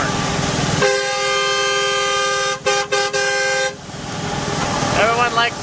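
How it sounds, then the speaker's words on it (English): A loud, sustained blast from an aftermarket truck air horn with a rich chord of tones, briefly interrupted twice, then cutting off, followed by vehicle rumble and a voice. "show us the air horn that you put in that truck"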